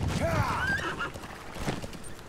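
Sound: horse neighing in video game Metal Gear Solid V

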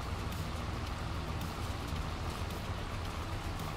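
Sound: rain falling in a farming video game

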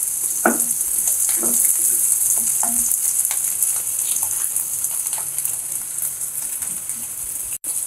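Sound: potatoes frying with onions in pan for chaat

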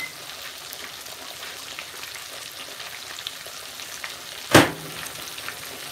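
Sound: deep frying cornmeal-coated catfish

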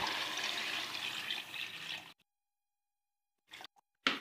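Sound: water being poured into a pot of cooking masala

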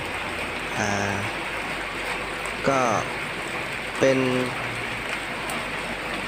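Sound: rain falling in a village

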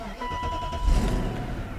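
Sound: BMW engine without oil starting and idling

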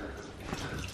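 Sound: tap water running for washing a foot

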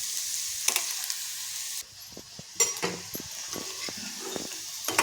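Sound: onion being stir-fried

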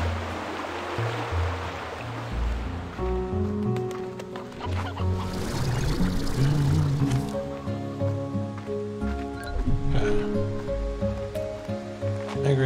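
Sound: hen clucking in video game Slime Rancher 2

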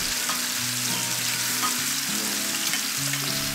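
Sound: olive oil and garlic frying in a pan

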